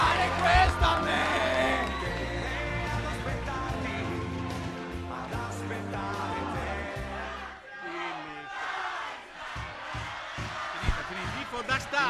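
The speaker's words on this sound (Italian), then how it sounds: "Tifo da stadio." Stadium-style cheering from a crowd of students at a school quiz-show final, with whoops, yells and shouting voices piling up loudly over a busy musical backing, dipping briefly before the chanting surges again.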